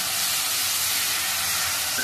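Masala in a pan sizzles and steams after a splash of water, for arbi bhaji; a loud, steady broadband hiss fills the moment alone, with no voices.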